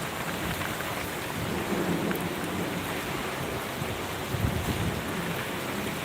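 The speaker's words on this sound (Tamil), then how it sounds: "மழை பெய்ய ஆரம்பிச்சிடுச்சு இவ்வளோ நேரம் மழை இல்லை மழை பெய்ய ஆரம்பிச்சிடுச்சு" Heavy rain falls during Cyclone Fengal, a dense, steady outdoor hiss with low rumbling beneath it, constant and fairly loud throughout, with no one speaking.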